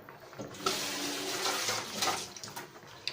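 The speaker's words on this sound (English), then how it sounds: "Just rinse that can out of it." Tap water runs steadily into a metal can being rinsed out in a kitchen, a close, continuous splashing hiss with small shifts as the can moves under the stream.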